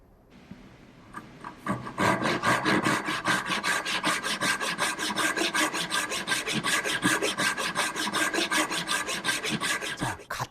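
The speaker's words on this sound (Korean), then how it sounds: "같은 나무를 바로 전에 했던 톱질 소리를 다시 한번 들어보겠습니다" Close-up hand saw cutting wood: fast, evenly spaced rasping strokes repeating steadily for several seconds, then stopping.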